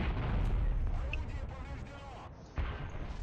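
Tank cannon fire in the War Thunder game, with a Panzer and an L-70 cannon involved: heavy booming battle noise fills the clip, with a fresh loud burst near the end, under a dense rumbling game soundscape.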